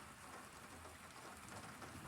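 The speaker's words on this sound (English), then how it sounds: "there is heavy rain downpours. And it still is raining" Heavy rain pours down steadily during a thunderstorm in Sioux Falls, South Dakota, a dense, continuous hiss of drops striking surfaces with no pauses across the whole stretch.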